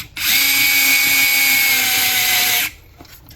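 A power drill drives a screw into a Losi LMT RC car axle housing, a loud whirring spin of about two and a half seconds that slows slightly as it bites, then stops with light handling noise after.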